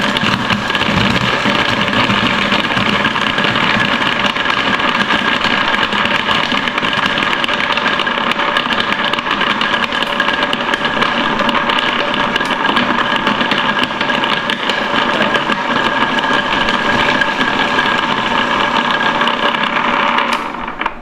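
An Atomberg Zenova mixer grinder runs with a whole onion in its chopping jar, a loud, steady motor whine and whir that holds evenly for about twenty seconds before cutting off abruptly.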